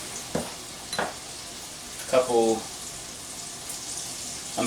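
Tomatillo soup seasoned with pepper and salt cooking in a pot, a low steady simmer broken by a few short scrapes and clinks as it is stirred, with no talk.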